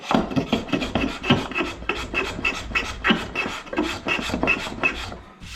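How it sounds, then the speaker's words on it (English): Hand sanding of a figured maple table top with 220 grit sandpaper, a rhythmic run of close, raspy back-and-forth strokes with no talking. "let's just sand that just to see what it looks like"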